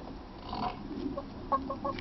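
Chickens give a few soft, short clucks, faint and close together, with no talking.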